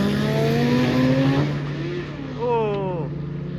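Drag race car making a sport class qualifying pass, engine pitch climbing through gears with a shift break midway, heard at a distance beneath a track announcer's commentary.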